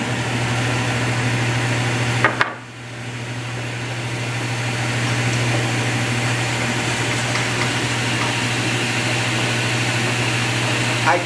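A table saw runs at a steady, loud, close drone with a constant low hum while cutting a maple board; a short thump and dip break the sound early, then the whine continues evenly.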